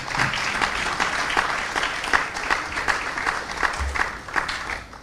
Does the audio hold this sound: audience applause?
yes